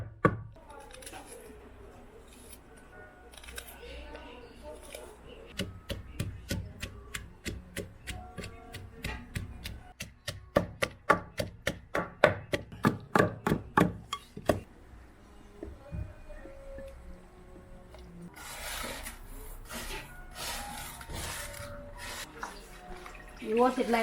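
Black pepper being pounded for a Gambian peanut stew (domoda), a run of sharp, rhythmic strikes coming in quick succession through the middle, with kitchen handling noise and scraping before and after.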